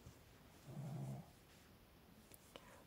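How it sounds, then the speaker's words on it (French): A dog snoring softly nearby in a quiet room, one brief low rumbling snore in the middle, with faint background hiss and no talking. "Le toutou qui ronfle à côté de moi."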